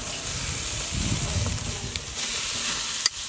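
Flap steak sizzles steadily on a Weber charcoal grill, a close continuous hiss with soft crackle and a brief scrape near the end as the meat is turned.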